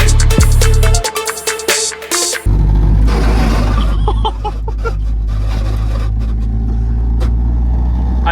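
A car with a modified exhaust revs loudly up close, with sharp bursts and clatter early on, then settles into a heavy, steady low rumble.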